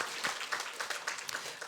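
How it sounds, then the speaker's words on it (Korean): A church congregation claps to welcome a visitor, a fairly soft, slightly distant patter of hands with uneven individual claps popping through. "우리 박수로 환영하겠습니다"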